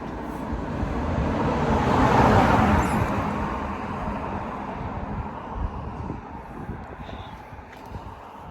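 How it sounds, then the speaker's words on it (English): Steady roadside traffic at a UK bus stop on a cold day, a broad continuous rumble of passing cars swelling around the second or two mark and easing, no talk. "I'm at the bus stop. I'm waiting for bus"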